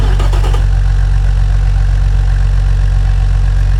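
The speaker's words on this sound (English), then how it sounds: "let's fire up this beast and let's hear it stock" A stock 1974 Ford 300ci inline-six, simulated in the Automation game, cranks and catches, then settles into a loud, steady, low idle that runs on alone.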